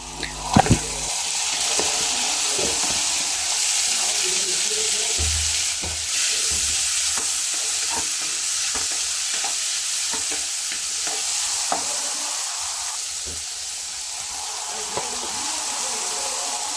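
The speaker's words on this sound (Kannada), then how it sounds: "ಟೊಮೊಟೊ ಹಾಕ್ಕೊಂಡು ಕ್ಯಾಪ್ಸಿಕಮ್ ಹಾಕ್ಕೊಂಡ್ಮೇಲೆ ಚೆನ್ನಾಗಿ ಫ್ರೈ ಮಾಡ್ತಾ ಬರಬೇಕು" Tomato and capsicum frying with onions in a pan, giving a steady sizzle with repeated scraping stirs and clinks throughout, fairly close and alone without talk.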